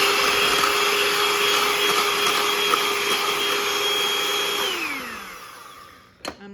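An electric mixer whips egg whites with powdered sugar and cream of tartar, a loud, steady motor whine running unbroken for several seconds, then winding down in pitch as it switches off, followed by a faint clink.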